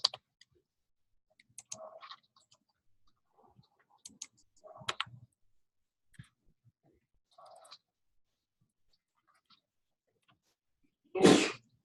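A single sharp sneeze bursts out loudly near the end, following a quiet stretch of scattered keyboard clicks and small taps in a classroom.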